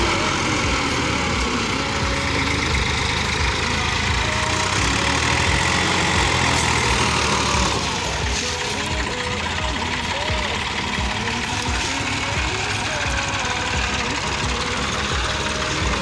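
A tractor engine runs hard while hauling a heavy trailer load of about 300 maunds, a loud continuous rumbling drone with a rough knocking texture, while someone talks over it.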